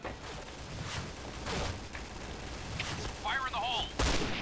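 P90 submachine gun in the game Point Blank, firing in short rhythmic bursts, with sharp repeated shots over a steady background bed and some talk mixed in.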